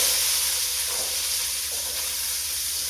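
Onions frying in a pan for vegetable sambar, a steady close hiss of oil sizzling without breaks or voices.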